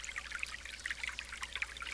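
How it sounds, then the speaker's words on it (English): A little mountain stream trickles down from a small waterfall in a forest, a steady, soft babble of flowing water without speech. "this little stream is coming from a small waterfall further up the mountain"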